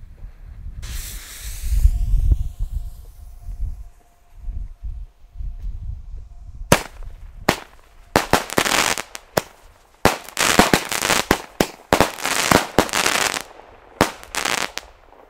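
An Xplode XS nine-shot firework battery goes off outdoors: a hissing launch, then a rapid series of loud cracking bursts and crackles, each sharp and close.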